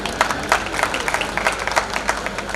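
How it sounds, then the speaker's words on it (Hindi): Scattered clapping from the audience at a comic poetry gathering in Karol Baag, fairly soft and steady over a noisy room, with no talk over it. "पूजा जी के लिए भी तालियां बजा दीजिए।"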